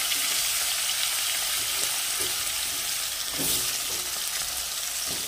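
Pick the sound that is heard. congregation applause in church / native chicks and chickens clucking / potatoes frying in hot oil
potatoes frying in hot oil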